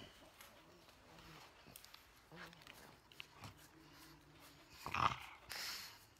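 Dog snorting and breathing while having its belly rubbed: quiet snuffles and soft breaths spread through the clip, then a louder snort and huff near the end, all close by.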